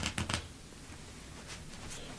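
Riffle shuffle of a deck of playing cards during a card-shark stacking demonstration, a few quick close riffle bursts at the start followed by quieter handling of the cards.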